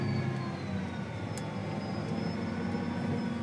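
A John Deere 4600 tractor with an IVT transmission and Command Center, its engine a steady droning hum with a faint whine as the throttle is raised, heard close and continuous without talk.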